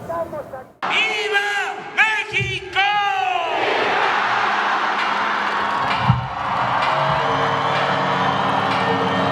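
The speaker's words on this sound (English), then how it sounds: "the president performs the grito or shout, Viva Mexico, and then the whole of Zocalo is packed with crowds" A huge crowd packed into the Zocalo in Mexico City roars during the grito, with loud rising chants at first and then a sustained, echoing wall of cheering and shouting.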